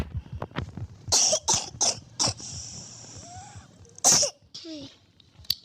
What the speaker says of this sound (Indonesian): Nah kalau lagi batuk, karena memang batuk guys.